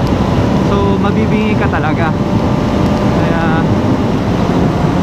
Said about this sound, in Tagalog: nakakabingi yung tunog ng wind